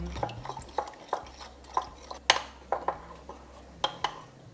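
Raw chicken is mixed in a bowl with Shaoxing wine, corn flour and salt, producing a soft wet stirring under scattered sharp clinks of a utensil against the dish, close by.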